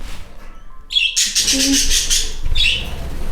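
A blue, green and yellow pet bird in an indoor bird room gives loud, harsh squawks in a sustained burst, close by, with softer chirps at the edges and a voice faintly in the background.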